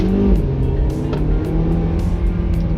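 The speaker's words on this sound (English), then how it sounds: "So just driving around so you guys can hear the vehicle." A Haval H6 GT engine hums steadily at a low, even pitch while driving in normal mode, with road noise throughout and no strong revving.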